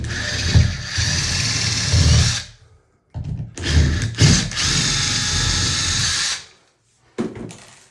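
A power drill whirs in two sustained bursts, whining loudly while it backs a screw out of a cover. A brief pause separates the bursts, and a short final whir follows.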